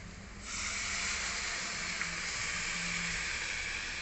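Coconut milk poured into a hot, simmering paneer masala curry sets off a steady, loud sizzling hiss that begins abruptly and continues evenly to the end.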